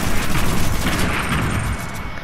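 A minigun fires a continuous, rapid barrage in a Fortnite game, loud and close, with dense, unbroken rattling for the whole stretch.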